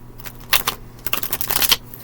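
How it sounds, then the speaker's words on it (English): Tarot cards being shuffled, riffled in a few quick papery bursts with short pauses between them, close and fairly loud against a quiet room. "Let me shuffle again."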